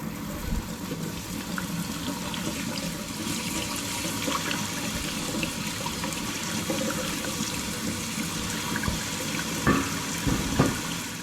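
Rhubarb stalks rinsed under a running kitchen tap, a steady rush of water with splashing and some clatter near the end, close and without voices.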